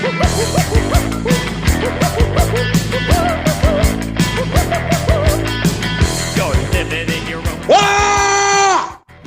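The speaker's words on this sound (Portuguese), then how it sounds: "Isso aqui começou com um grito hoje." Near the end, a person lets out a loud, sustained scream that cuts through rhythmic, pulsing background music in a podcast recording, lasting just over a second before everything drops away.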